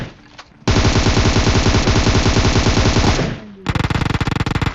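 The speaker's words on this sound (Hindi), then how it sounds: "मैं इसको लेटे लेटे गोलियां मार रहा था" Loud bursts of automatic gunfire from a ranked battle-royale shooter game. A long sustained volley is followed by a short pause and then another rapid, stuttering burst.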